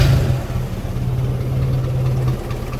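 An engine idles steadily just after a cold start, with a low, even hum running near and loud throughout and no voices.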